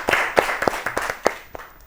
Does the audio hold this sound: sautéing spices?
no